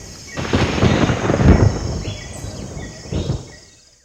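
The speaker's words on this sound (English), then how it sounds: "The animal sounds and the lightning surrounded me." Thunder rumbles in rolling bursts, loud and close, with lighter crackling and faint rain-like noise between peaks, night animal sounds around, in Ethiopia.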